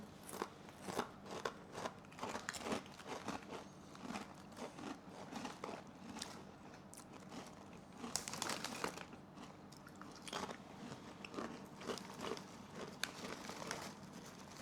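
A crinkly snack bag of Balkan potato chips is pulled open and handled, giving dense, continuous crackling and rustling with sharp crinkle bursts throughout, close and fairly loud, with no talking.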